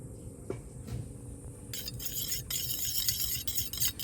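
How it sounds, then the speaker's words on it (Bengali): A spoon scoops homemade aloe vera gel into a face pack mixture of rose water and honey in a bowl, giving soft close clinks and wet scraping over a low room hum, with no talking. "চামচ অ্যালোভেরা জেল দিয়ে দেব"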